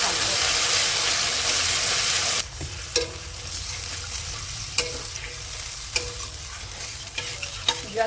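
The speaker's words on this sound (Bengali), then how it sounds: "আদা জিরে কাঁচা লঙ্কা আর একটা তেজপাতা দেওয়া পেস্টটা দিয়ে দেব। এবার এটাকে কষতে থাকবো।" Ginger, cumin, green chili and bay leaf paste is sautéed in a pan, starting with a loud sizzle of frying that drops to a softer hiss, punctuated by sharp scrapes and taps of stirring.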